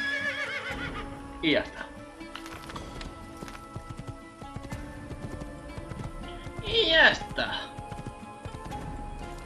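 Two sharp horse neighs with clopping hooves in Assassin's Creed, one early and one later, while someone talks quietly over low game sounds.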